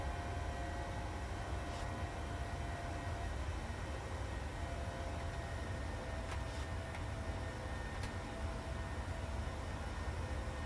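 PMDG 737-700 airliner climbing after takeoff in a flight simulator game, a constant dense engine roar with a broad steady hiss and a few faint clicks, unchanging throughout.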